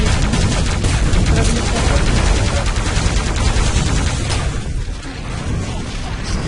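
Rapid, loud weapon fire from the fast-paced Quake Live shooter plays in dense, overlapping bursts, nearly continuous for several seconds before easing slightly toward the end.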